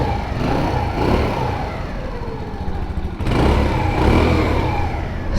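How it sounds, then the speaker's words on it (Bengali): A motorcycle with a major engine problem runs close by, its engine droning loud and rising and falling in two long revs, with a brief dip between them. "ব্রো চলেন একটু বাইকটি স্টার্ট দিই।"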